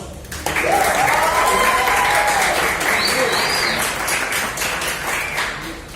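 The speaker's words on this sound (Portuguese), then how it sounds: "Salve de palmas aí, John." Audience applause at a university medical-course event, a loud, full burst of clapping that starts abruptly and holds steady, with faint voices and a whistle-like cheer mixed in.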